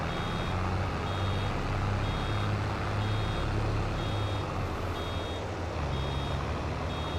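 Reversing beeps from a farm vehicle in Farming Simulator 22, an evenly spaced high beep repeating about every second over a loud, constant engine drone, with no speech.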